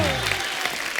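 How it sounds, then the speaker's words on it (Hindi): A studio audience at a comedy talk show claps in a steady, dense burst of applause that continues throughout; no clear speech stands out. "ओए ठोको ताली ठोको।"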